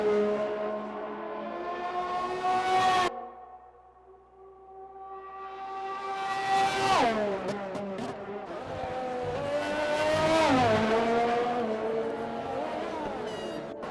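A race car in a racing video game brakes into a hairpin on the Canada circuit. Its engine whines through downshifts, and the pitch sweeps down and then back up. There is a brief near-silent gap, after which the car accelerates hard out of the corner.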